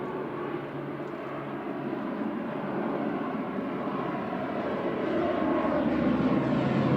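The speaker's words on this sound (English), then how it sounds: "Aureni departing back to Guernsey now with flight 798. This is OGFC." An Aurigny ATR 72-600 turboprop departs a busy airport, its propeller engine a broad, distant drone that swells gradually louder over several seconds, with no talking.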